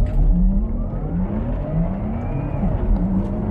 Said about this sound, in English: It has a second gear in the rear end, and you hear it switch